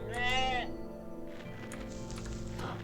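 One brief sheep bleat opens the stretch in the video game OneShot, then soft game sounds and light tapping follow over a quiet background.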